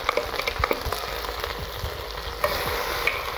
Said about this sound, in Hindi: इसके साथ ही हम डाल देंगे अपना प्याज,